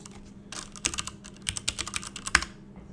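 Rapid laptop keyboard typing, a burst of sharp, close key clicks at an uneven rhythm, fairly quiet with no talking.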